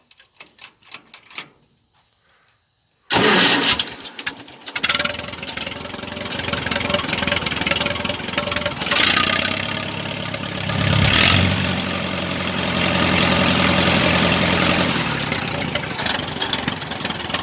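An idling engine with slight carburetor trouble and power steering runs steadily and fairly close, a continuous mid-pitched rumble with a faint ticking pulse, starting abruptly after a short quiet stretch and holding alone.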